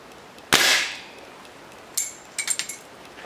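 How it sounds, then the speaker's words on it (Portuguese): A Rossi Match air rifle fires a pellet that pops the cap off a Lion Polsky beer bottle: one sharp crack with a short ring, then several light metallic clinks and rattles close by. "eu vou abrir uma garrafa de Lion Polsky com um tiro de chumbinho"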